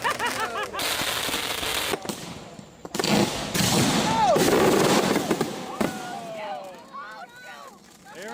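Fireworks burst in rapid crackling bangs, loud and close, with whistling rockets and sharp pops spread throughout while several people shout and talk excitedly over them.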